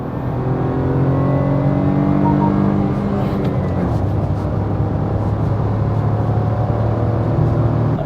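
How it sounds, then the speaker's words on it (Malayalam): A 2024 Maruti Swift's three-cylinder engine revs up under acceleration, a steady loud drone rising in pitch, dropping briefly near the middle as it shifts, then climbing again. "നമ്മളിപ്പോൾ ആക്സിലേറ്റ് ചെയ്യുകയാണെങ്കിലും ജസ്റ്റ് എ 3 സിലിണ്ടർ ത്രം."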